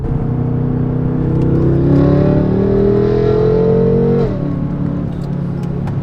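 BMW F10 M5 sedan with an FI exhaust and a fresh tune accelerating hard from inside the car, a loud continuous engine roar rising in pitch for about four seconds before dropping off as the gear changes.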